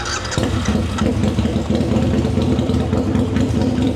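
A Harley-Davidson V-Rod motorcycle exhaust rumbles loud and close, a throaty, steady engine note with slight pulsing throughout and no voices.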